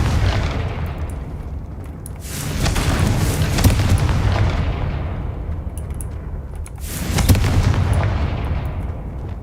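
Confringo blasting spell explosions in the video game Hogwarts Legacy: two heavy booming blasts a few seconds apart, each with a rumbling tail that swells and fades, loud and close with no talk.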